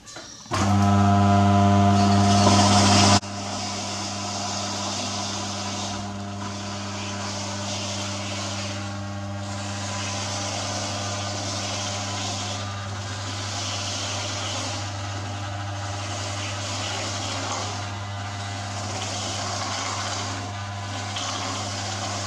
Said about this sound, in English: Now I am going to show the difference between the grating in the wet grinder attachment and the food processor.